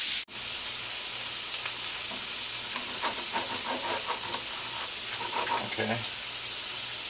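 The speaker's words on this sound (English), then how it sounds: "I put the onions in. Now I'm sauteing them just a little bit in the heat" Onions sauté in butter with a pinch of salt over the heat, producing a steady loud hiss and sizzle after a sudden start. Irregular soft scrapes and clatters of stirring sit beneath it.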